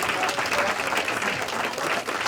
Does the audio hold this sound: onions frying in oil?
no